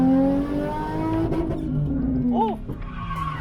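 A drift-built car with a 3.9 differential revs hard and hits the limiter while drifting, the engine tone sweeping loud and close, then a short sharp squeal near the end as a voice exclaims.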